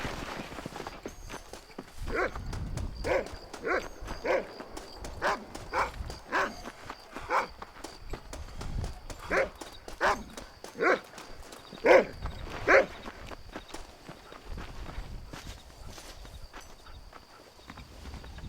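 Horse hooves from the video game Red Dead Redemption clopping in a steady, even rhythm, moderately close, with a few louder clops toward the middle and a quieter stretch at the end.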